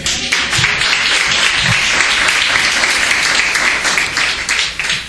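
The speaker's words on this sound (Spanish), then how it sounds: "Un fuerte aplauso a Jesús" A church congregation applauds continuously, a dense steady wash of clapping lasting throughout.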